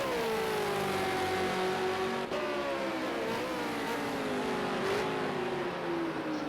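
V8 Supercars race through a hairpin at Ruapuna Park, engines droning loudly and continuously with pitch rising and falling as the cars brake and accelerate around the bend.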